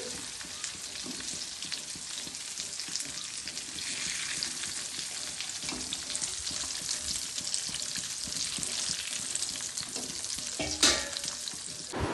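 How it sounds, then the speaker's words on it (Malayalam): Onions frying in oil for a beef biryani, a dense steady sizzle close up, with occasional stirring scrapes and a brief metallic clink near the end. "ഇനി നമുക്ക് ഉള്ളി വാട്ടണം ബിരിയാണിക്ക്"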